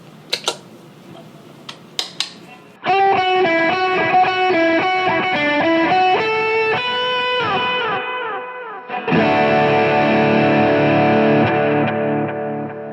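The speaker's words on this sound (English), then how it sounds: "Let me show you how it sounds when I add in this reverb as well as a little bit more overdrive." Electric guitar played through a pedalboard with delay, reverb and overdrive for church worship music: a few plucked notes, then loud sustained overdriven chords with repeating delay trails and a washy reverb tail, playing alone.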